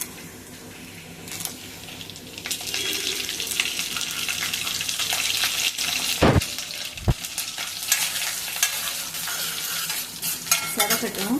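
Crackling, sputtering sizzle of mustard seeds, urad dal and chana dal frying in hot oil, steady and close, with a couple of sharp pops partway through and no voices.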